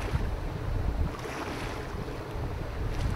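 Water pumps at a trout farm at night drone steadily: a loud, continuous low rumble with broadband wash and rushing noise, close and unbroken, no voices.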